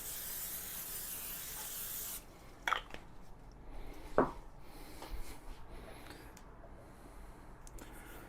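Butter-flavored cooking spray hissing onto a pan in a few short bursts, a steady broadband spray for the first couple of seconds, then quieter taps and rustles close by.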